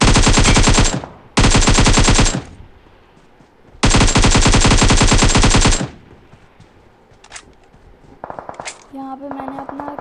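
Bursts of rapid automatic gunfire in a shooter video game, loud and close, in two long volleys and one shorter one, followed by quieter game sounds and a few scattered beeps.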